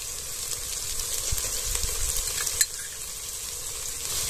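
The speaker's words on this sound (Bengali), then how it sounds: "দিয়ে দেব আদা রসুন বাটা, ভালো করে মিশিয়ে নেব" Ginger-garlic paste sizzling in caramelised sugar and oil, stirred in a pan, a steady close frying hiss with soft scraping strokes and one sharp clink near the end.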